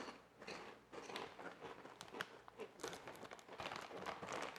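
Crisp crunching and chewing of Doritos 3D corn chips, close and fairly quiet, a steady run of bites with no talking.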